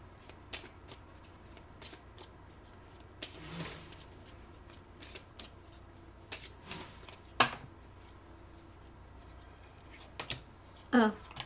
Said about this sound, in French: en mélangeant le jeu.